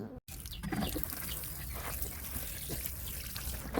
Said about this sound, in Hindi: अब देते हैं इन कटिंगों में पानी